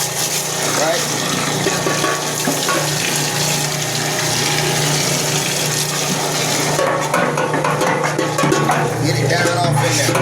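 Used fryer oil pumps out through the filter line while a deep fryer is being filtered, a steady, loud rushing gush that runs unbroken throughout with faint clatter on top.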